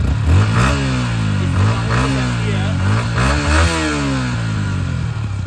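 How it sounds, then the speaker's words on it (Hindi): A modified Yamaha R15 V4 motorcycle engine idles roughly, then revs up and down several times, loud and close, with a voice speaking over it. "चलो भाई स्टार्ट करते हैं गाड़ी को।"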